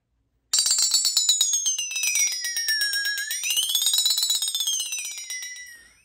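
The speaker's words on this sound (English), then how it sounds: "How about the flexitone?" A flexitone, a classroom percussion instrument, gives a close, clear run of rapid metallic pings whose pitch wobbles down, then up and back down, sustaining for about five seconds before fading.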